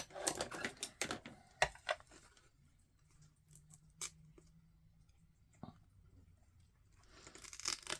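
Paper is cut for a handmade autumn card: a cluster of crisp snips and rustles at the start, a quieter stretch with a few light taps, then more close cutting at the end.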